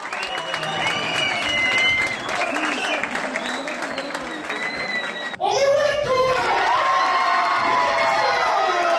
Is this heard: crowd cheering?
yes